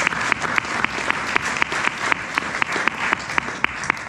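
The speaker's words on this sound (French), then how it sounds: "Bravo à vous, on peut les applaudir un peu de droit" Applause from the audience at an eco-label awards ceremony in Barrême, a steady patter of clapping with a few sharper claps standing out, at moderate level with no talk over it.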